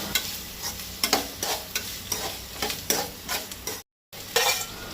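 Sliced medium onions sauté in a pan for a Goan fish thali, a steady sizzle broken by repeated scraping stirs of a spatula, with a brief dropout near the end.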